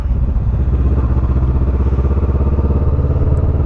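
Honda CB500 motorcycle engine running steadily after a shift into second gear, a loud, close, continuous low throbbing drone with rhythmic clatter and no speech.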